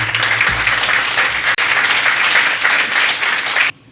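An audience at a Harlan High School 50th anniversary event applauds the principal, Reginald Evans, with steady, dense clapping that fills the hall for several seconds, briefly dips once, then cuts off near the end.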